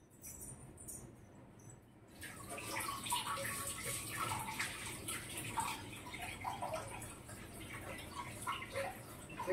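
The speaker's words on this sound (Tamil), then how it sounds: "இதை கருப்பாக இருக்குது கொஞ்சம் லைட்டாக நான் வாஷ் பண்ணிவிட்டு எடுத்துகிட்டு வந்துடுறேன்" Greens (keerai) being washed in water, with a steady splashing and sloshing that begins after a quieter start and continues close and fairly loud, with a brief faint voice near the beginning.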